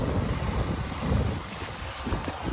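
A fast-flowing river rushes loudly and steadily, a dense continuous roar with some wind buffeting the microphone.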